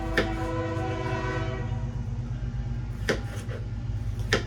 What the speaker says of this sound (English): Sorry, there's a train.